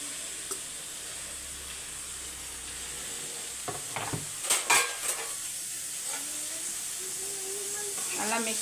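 Cut capsicum sizzling in a pan with half-cooked plantain, a soft steady hiss broken by a few clattering stirs and scrapes of a utensil, with some faint speech-like sounds.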